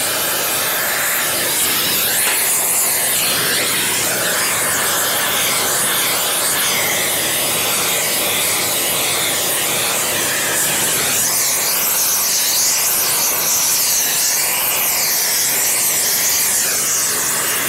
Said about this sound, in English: from the combustion on the torch, the oxy-fuel torch. I'm going to warm this steel up.